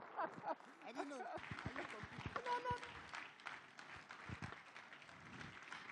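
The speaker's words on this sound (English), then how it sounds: "A well-deserved round of applause for His Excellency, not His Excellency, Professor Charles Soludo, Mr. Governor." A crowd applauds Professor Charles Soludo, a state governor, at a forum on democracy and the free market economy; the clapping is moderate and fairly steady, with voices talking over it throughout.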